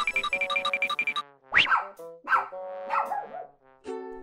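A cartoon puppy in a Plants vs. Zombies fan animation gives three sharp, yappy barks, following a short springy boing-like musical effect.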